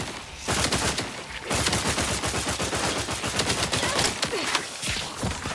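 Sustained rapid automatic gunfire in a first-person sci-fi shooter game, dense burst after burst of loud shots with brief gaps, no talk over it.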